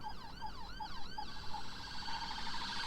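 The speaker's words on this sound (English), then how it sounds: "There's another ambulance behind, actually." An ambulance siren on a motorway wails with rising and falling sweeps, then settles into a steady tone, heard from inside a Hyundai Ioniq 6 electric car over a constant road hum.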